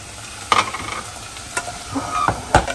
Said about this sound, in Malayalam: അപ്പൊ ഇനി നമ്മൾ ഇതിനകത്തോട്ട് നമ്മൾ അരിഞ്ഞു വെച്ച തക്കാളി ഇടാം